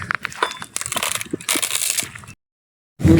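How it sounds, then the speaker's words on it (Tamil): Firewood is chopped outdoors in a forest beside a tamarind tree, heard as a close rapid run of crunching, cracking hits, then a short silence before another burst. "சரி, சீக்கிரம் விறகு வெட்டுறாடி."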